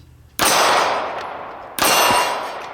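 Two sharp metallic clangs ring out as bullets strike a steel target, each a sudden loud impact followed by a ringing decay lasting over a second.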